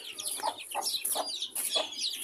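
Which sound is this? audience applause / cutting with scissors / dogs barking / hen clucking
hen clucking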